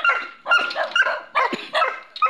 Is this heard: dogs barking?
yes